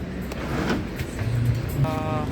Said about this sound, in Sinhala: මේ බස් එක ආවා.